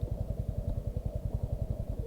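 A motorcycle ridden on an off-road mountain route near Kasol, its engine thumping in a fast, regular pulse, close and steady throughout with no speech.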